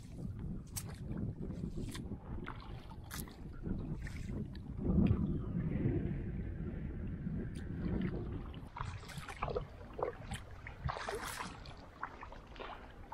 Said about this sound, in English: Friendly neighborhood jet ski is running around, trying to flip us over.